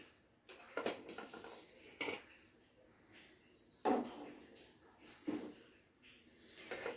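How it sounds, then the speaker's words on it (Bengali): Eggs are set one at a time with a spoon into a pot of hot water, giving four or five soft, spaced-out knocks and clinks against quiet background noise. "ডিমগুলোকে একটা একটা করে এইভাবে চামচ দিয়ে আস্তে করে ছেড়ে দেব।"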